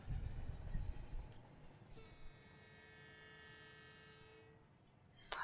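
A train in the Rolling Line video game rumbles along, then sounds a long steady horn for about two and a half seconds before the horn cuts off, fairly quiet overall.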